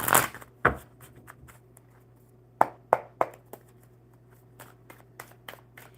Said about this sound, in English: All right, one more good shuffle, Deborah.